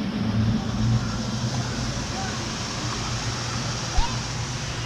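Water flows steadily along a lazy river at a resort in Orlando, a continuous broadband rush with a low hum beneath it and one brief knock near the end.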